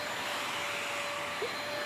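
A Bush handheld bagless stick vacuum cleaner runs with a steady, even whine and airy roar, close and constant throughout with no talking.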